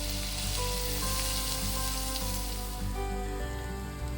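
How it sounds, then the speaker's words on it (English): Finely chopped onion and garlic sautéing in a pan for cream of mushroom soup, a steady close sizzle and crackle of frying with a faint tonal hum underneath. "We'll saute this for about 30 seconds to a minute"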